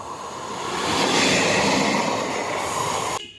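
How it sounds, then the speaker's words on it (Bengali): A train pulls into a station with a continuous rumbling roll of wheels on rails and a faint metallic squeal, swelling in the middle, then easing before stopping abruptly. "এই যে আমি যে ট্রেনটাতে যাব সেই ট্রেনটা এখন ঢুকছে"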